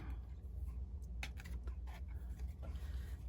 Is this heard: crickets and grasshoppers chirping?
no